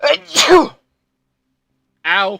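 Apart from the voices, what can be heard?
sneeze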